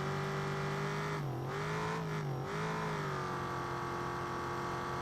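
Race car engine in a BeamNG desert Baja racing championship, revving loud and close with harmonic whine, dipping briefly twice as gears shift before climbing again under sustained acceleration; no talking.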